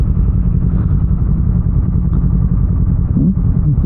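A motorcycle rides along a short route to BGC, its engine giving a loud, continuous, close-up low rumble with light clatter throughout.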